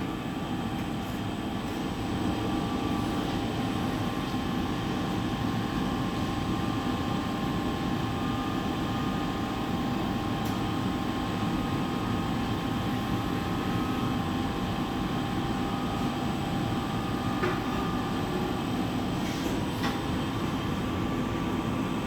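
A glass furnace in a hot glass studio at the National Glass Centre roars while a wine goblet is reheated, a steady, dense broadband rumble that stays constant throughout with no voices.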